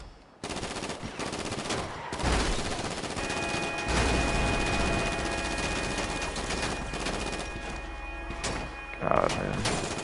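Rapid bursts of automatic gunfire crackle through a Grand Theft Auto Online firefight, repeated loud volleys over a dense action-game background with occasional thuds.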